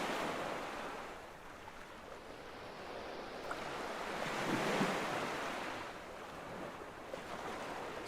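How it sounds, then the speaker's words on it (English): Ocean waves in a horror video game wash in steady, soft surges of broadband surf with a windy hiss, rising gently and fading in a slow swell, with no voices over them. "Soothing ocean noises from the deep will leave you"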